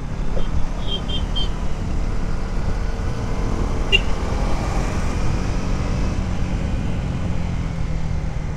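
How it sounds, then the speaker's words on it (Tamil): Husqvarna Vitpilen 250 motorcycle exhaust under throttle while riding, a steady broadband engine and road roar that stays loud and continuous throughout, with no talking. "நல்லா அந்த த்ராட்டில் கொடுத்தப்போ அந்த வெஹிக்கிள்லேருந்து வர எக்ஸாஸ்ட் சவுண்டு நல்லா சூப்பராக இருக்குது கேட்குறதுக்கு"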